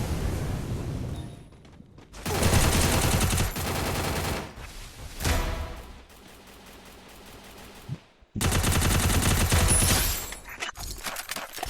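Rapid video-game gunfire from a favourite long-range gun, loud bursts of automatic shots separated by short pauses, with a final sustained volley near the end.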